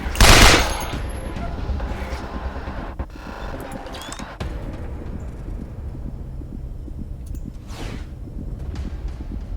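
Rapid gunfire bursts in Wasteland 2 combat, with a sharp loud opening shot followed by a steady rattling, noisy barrage that stays close, with faint talk mixed in.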